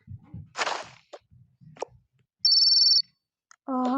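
A phone ringing in the Toca Boca video game, a short bright electronic ring burst followed by a second tonal ring, with soft thuds and taps before it and no talking.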